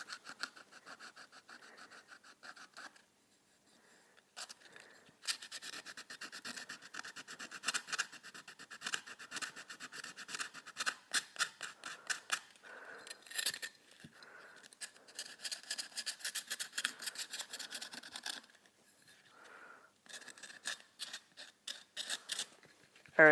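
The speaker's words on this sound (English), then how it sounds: "So I'm going to go ahead and sand it." Hand sanding with 80 grit sandpaper gives close, quiet scratchy rubbing strokes in bursts, with a few short pauses between runs and no talk.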